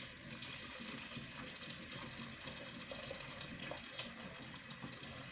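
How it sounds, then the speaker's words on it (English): Water pours steadily into a pot of potatoes, a soft continuous gushing stream heard fairly quietly and close by. "I'm going to add water just to cover the potatoes."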